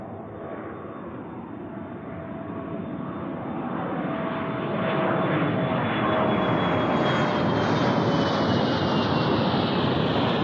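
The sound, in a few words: C-130 aircraft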